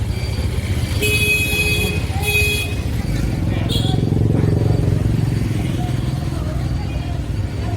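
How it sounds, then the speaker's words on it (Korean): Motorbikes and cars at a Dalat street market rumble past with several short horn toots near the start and middle, over a busy murmur of crowd noise. "아, 진짜 빵빵거리네"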